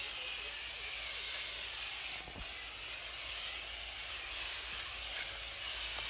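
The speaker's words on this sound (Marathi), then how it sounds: "तर अशा पद्धतीने ही फवारणी घ्यायचं चालू आहे" Steady broadband hiss of a pesticide sprayer misting a five-year-old golden custard apple orchard, continuous and fairly close with a brief dip midway, no voices.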